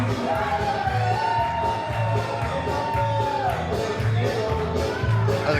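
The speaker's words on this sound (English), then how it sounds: "Well, the crowd certainly loves him here." A wrestling crowd in Texas cheers and whoops for a luchador's entrance while entrance music plays, with a steady, continuous roar of voices.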